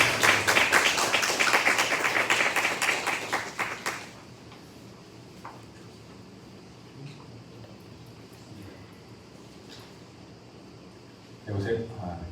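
Lecture audience applauding in welcome of a speaker, a dense burst of clapping for about four seconds that stops abruptly, followed by quiet room tone and a brief late rustle.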